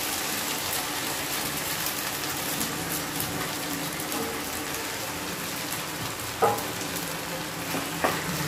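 Hakka noodles with vegetables stir-fried and tossed in a hot pan, a continuous close sizzle with soft stirring and a couple of sharp utensil knocks near the end, no talking.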